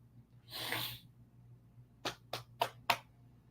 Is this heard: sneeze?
yes